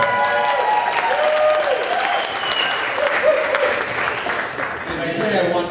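At an evening reception of a vegan summit, an audience claps loudly and steadily with some cheering mixed in, while a voice carries over the applause throughout.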